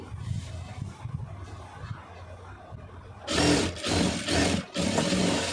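A sewing machine stitching a blouse sleeve, starting after a few seconds of low room noise and running in close, steady bursts with brief pauses between them.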